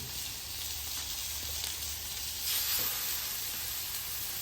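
Pork chops sizzle steadily on a Blackstone flat-top griddle, a dense, even crackling hiss that swells slightly near the middle and carries on alone without talk.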